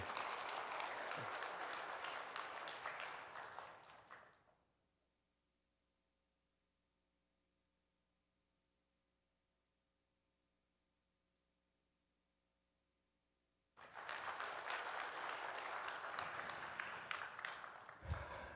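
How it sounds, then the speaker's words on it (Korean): A church congregation claps loudly for several seconds during a service, then near silence follows before a second strong burst of applause. "큰 박수 하시겠습니다."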